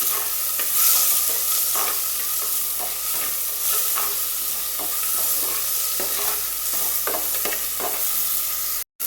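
Onion and tomato frying for crab sukka in a pan, a steady close sizzle with repeated stirring scrapes and clinks throughout, no talking.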